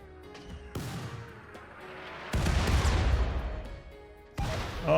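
An automated turret in RimWorld fires in sharp bursts, a few loud cracking volleys separated by brief pauses, fairly close and without talk.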